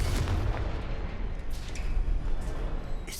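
A blast from the Confringo explosive spell in the video game Hogwarts Legacy, a deep rumbling boom that rolls on for a few seconds with faint crackling debris above it, with no talk.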